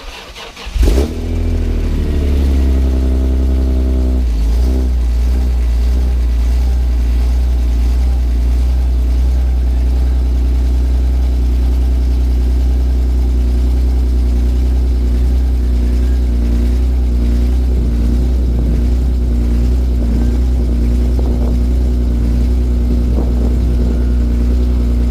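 A BMW E46 M3 fitted with a new intake boot fires up from cold with a short crank and sharp catch, then holds a loud, steady, close idle for over twenty seconds with no voices.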